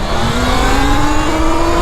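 A Talaria Komodo electric bike launches hard in race mode, a loud rising motor whine climbing steadily in pitch over a rumbling rush of wind and tyre noise.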